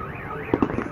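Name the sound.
firework exploding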